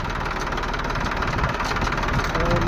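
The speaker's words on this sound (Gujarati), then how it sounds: "દૂધ ભરેલું ટ્રેક્ટર સેજલની ત્યાં છે" A tractor loaded with milk runs with its engine turning over steadily, a continuous mid-to-low hum with a faint knocking texture, moderately close and unbroken.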